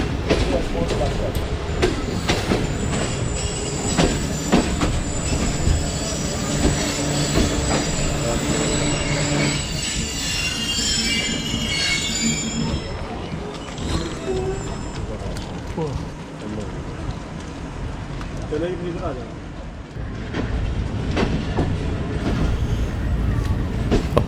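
The Fareed Express, a passenger train on a branch line leaving Kot Lakhpat, rumbles along with wheels clattering and squealing on the rails, loud and close, while someone talks over the noise.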